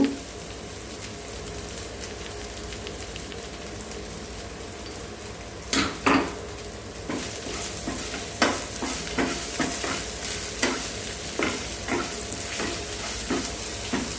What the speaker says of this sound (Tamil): எண்ணெய் மட்டும்தான் ஊற்றிருக்கேன் இப்போ பார்த்தீங்கன்னா எல்லாமே வதங்கியாச்சு